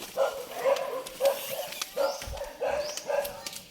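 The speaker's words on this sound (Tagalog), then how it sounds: "Dami ng mga aso na nagtatahol" Several dogs bark repeatedly in short, sharp bursts at a moderate distance, a fairly steady barking chorus with brief gaps between volleys.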